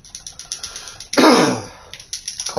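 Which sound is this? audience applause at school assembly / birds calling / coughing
coughing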